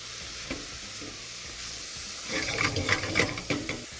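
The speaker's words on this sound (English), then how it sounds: "So you want to stir this to get a consistent mix." A spoon stirs Persian celery stew with meat and onions in a pot, soft scraping and sizzling at first, then busier clattering strokes and bubbling for the last couple of seconds, close and fairly quiet.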